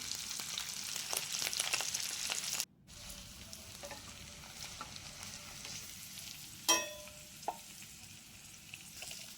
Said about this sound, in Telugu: ఈ కట్ చేసి పెట్టుకున్న ఈ పన్నీర్ ముక్కల్ని బటర్లో అయితే కొద్దిగా బ్రౌన్ కలర్ వచ్చేంత వరకు అయితే ఈ పన్నీర్ని బాగా ఫ్రై చేసుకోవాలి